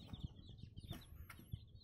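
Young chicks of egg-laying hybrid crosses, about six days old, give faint soft peeps and small clucks with light shuffling and wing flutters, quiet and close.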